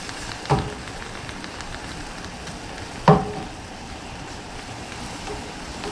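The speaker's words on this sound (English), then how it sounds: "Just gonna heat that up in that beautiful butter" Butter heats in a pan with a soft, steady crackling sizzle, broken by two brief louder clatters, with no talking.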